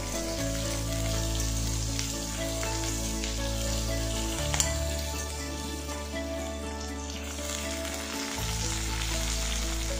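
Onions, curry leaves and spices sauté in hot oil with a continuous crackling sizzle, close and steady, over quiet background music.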